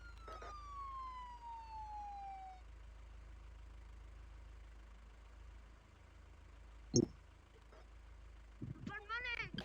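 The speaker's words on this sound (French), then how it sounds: "Éteins la sirène" A siren's tone slides downward and fades out within the first few seconds over a low idling engine, followed by quiet rumble, a sharp knock and a few loud voices near the end.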